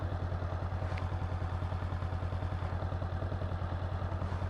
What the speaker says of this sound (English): If I want this motorcycle to speed up without the throttle, it's idling right now.